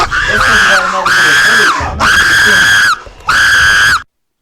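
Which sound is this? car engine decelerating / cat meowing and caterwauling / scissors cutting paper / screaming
screaming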